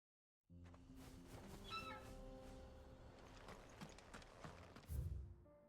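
Small cat meowing in Final Fantasy XVI, a few short high-pitched mews over steady game music and ambience, fairly faint and alone without talk.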